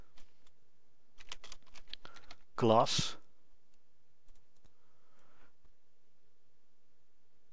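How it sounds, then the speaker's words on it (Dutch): Fingers type on a computer keyboard while coding a Minecraft mod, giving a quick, quiet run of close keystroke clicks. A voice briefly speaks right after, and then the room falls nearly silent. "ik zal het eens even typen"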